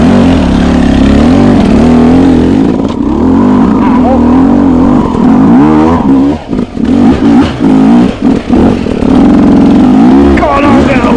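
A motorcycle engine revs hard in first gear while being ridden off-road, a loud buzzing drone rising and falling in pitch, with the throttle choppily blipped toward the end.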